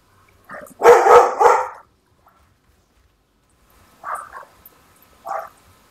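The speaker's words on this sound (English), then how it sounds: "Sorry about the dog barking." A dog barks indoors near the microphone, a quick burst of several loud barks, then after a pause two shorter, softer single barks.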